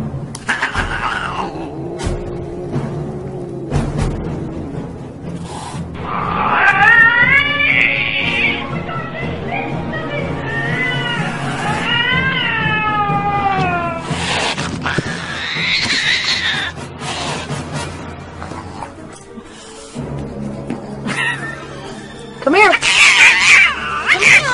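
A cat meows and caterwauls in long, rising and falling yowls through the middle stretch, loud and close, with people talking over and around it.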